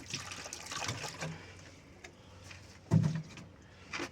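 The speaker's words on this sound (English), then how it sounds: "rinse out your bucket." Water sloshes and trickles as a bucket used for concrete repair is rinsed out, soft irregular splashes with a sharper slosh near the end, fairly quiet and close.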